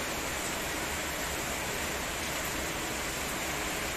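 Heavy rain falls in Surabaya as a downpour begins to ease. A constant, even hiss of rainfall fills the whole stretch with no voices.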